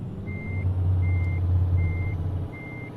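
In Euro Truck Simulator 2 a truck backs up with its reverse alarm beeping four times at a regular pace over a loud, rumbling diesel engine.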